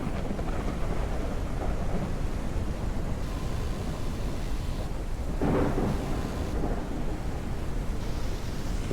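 Thunder rolls through a stormy sky in the video game Forever Skies, a continuous deep rumble with rain-like hiss and a brighter crack building midway, with no speech.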